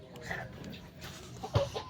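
Chickens cluck softly amid outdoor background noise, with a slightly louder cluck near the end, and no one speaking.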